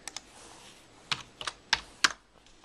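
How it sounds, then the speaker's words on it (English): A few sparse keystrokes on a computer keyboard typed with one hand: about seven separate close clicks, some in quick pairs, with gaps between them. "Typing with one hand."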